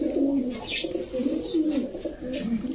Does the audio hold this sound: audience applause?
no